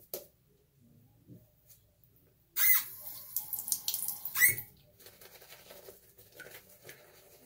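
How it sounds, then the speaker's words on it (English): Water runs from a tap for a few seconds to wet shaving soap lather. A faint, hissy stream splashes and patters close by, starting abruptly after quiet handling sounds and then tapering into soft drips and rustles. "I just added a little bit of water and see what it can do about building the lather."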